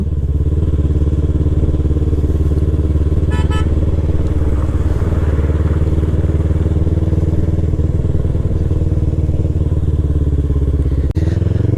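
A Yamaha R3 motorcycle being ridden on high mountain roads in Ladakh, its engine droning loud and steady at close range for the whole stretch, with wind rush and a brief click near the end.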